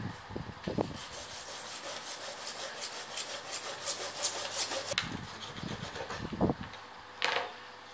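Freehand sawing of a plastic lightsaber shroud, rough rasping strokes repeating steadily at close range with a few brief knocks, no talk.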